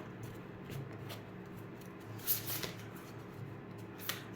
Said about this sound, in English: This deck's a bit harder to shuffle